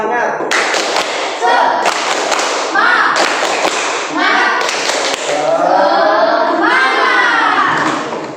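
Classroom children perform a rhythmic spirit clap, sharp bursts of clapping and thumps in patterned groups, mixed with loud children's chanting and shouting voices close by.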